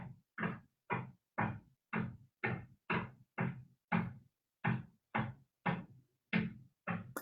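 A cat knocks on a door: a steady series of about fifteen sharp knocks, evenly spaced around twice per second, close and fairly loud with silence between.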